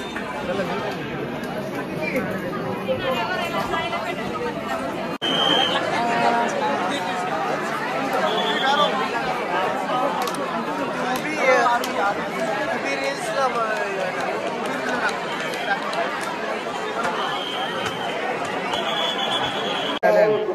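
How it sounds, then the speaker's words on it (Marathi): Dense crowd of pilgrims chattering at the Ekvira temple, a steady babble of many voices close around, with occasional brief beeping tones over the hubbub. "भरपूर गर्दी आहे, तुम्ही बघू शकता."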